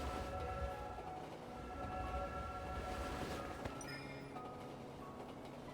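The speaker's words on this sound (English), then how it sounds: "The train is about to leave." A train departing a Disneyland attraction station rumbles steadily at close range, with a continuous low roar and sustained tonal hum and whine above it; no one speaks.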